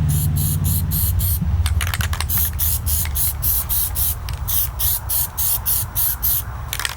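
Plasti Dip aerosol can spraying onto car rims: a steady continuous hiss that soon breaks into rapid repeated short bursts, close and loud, over a low hum.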